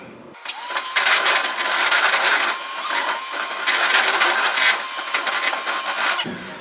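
An electric blender or mixer whirs steadily while eggs are mixed into butter and sugar; the loud motor hum starts abruptly, shifts in intensity as it works, then cuts off.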